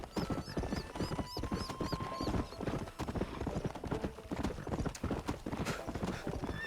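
A horse from Red Dead Redemption moves along with quick, rhythmic clip-clop hoofbeats at moderate volume, alongside a brief whinny and background game music.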